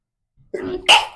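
A single sharp, explosive sneeze bursts out close by after a brief breathy intake.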